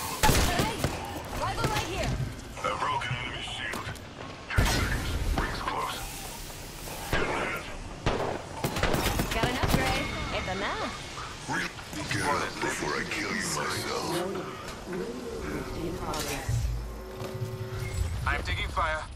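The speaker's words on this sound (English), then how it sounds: "I'm taking fire." Gunfire in Apex Legends, with repeated shots and bursts popping throughout amid busy game sounds, while a voice talks over much of it.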